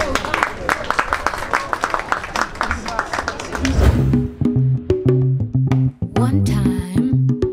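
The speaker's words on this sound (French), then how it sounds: "Vos applaudissements." Audience applause at a Hb Africa 2019 startup pitch event, a dense burst of clapping for about four seconds that cuts off abruptly, followed by music with a steady beat.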